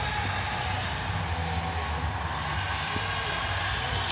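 A subdued ice hockey crowd cheers steadily after a home goal at a Newcastle North Stars versus Melbourne Mustangs AIHL game, a broad even roar of voices at moderate level with no clear peaks.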